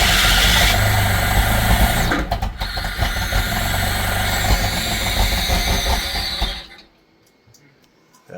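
A Pontiac Fiero engine runs with a little throttle applied, a loud mechanical rumble and clatter with brief revving that holds for several seconds, then cuts out abruptly into near silence.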